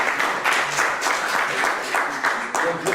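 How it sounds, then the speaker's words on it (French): A conference audience applauds after a lecture on European economics, with dense, steady clapping that fills the room and continues throughout, mixed with some background murmuring. "Alors, pour les oui, on peut l'applaudir."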